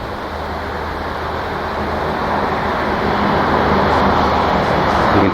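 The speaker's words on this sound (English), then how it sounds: "You can tell by the traffic noise behind me." Steady, loud wash of road traffic on Route 307, a major thoroughfare near Takaoyama, with vehicles hissing past continuously and swelling slightly louder as they approach, no voices.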